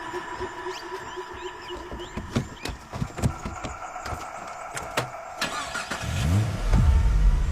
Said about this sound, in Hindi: भाई आप ही गाड़ी चला लो।